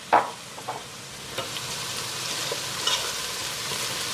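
Vegetables for an Armenian makhokh abur soup sauté in a pot with butter, giving a faint, even sizzle after an opening clank of a utensil, with a few light stirring knocks.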